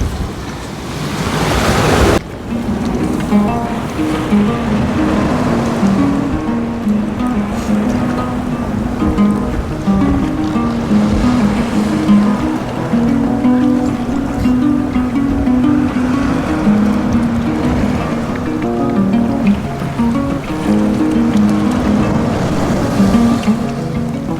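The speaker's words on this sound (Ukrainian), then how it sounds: "Трохи хвилі." Sea waves on the Odesa shore, where there are no breakwaters, wash steadily and loudly with gusting wind buffeting the microphone, a continuous outdoor roar with a low engine-like hum beneath.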